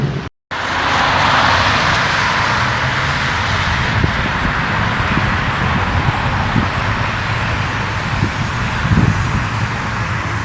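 A Corvette drives by at a classic car cruise, its engine rumble rising steadily out of continuous roadway traffic noise and then holding broad and loud for several seconds.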